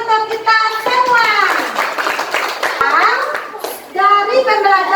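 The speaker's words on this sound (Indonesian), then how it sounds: "Nah, tepuk tangan untuk kita semua." Children in a fifth-grade classroom clap their hands together as a group, a short burst of clapping mixed with a teacher talking and children's voices throughout.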